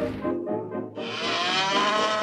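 A Danish dairy cow moos in a long, loud, close bellow that starts low, breaks briefly, then swells into a sustained, rich lowing that fills the whole clip with no other sounds.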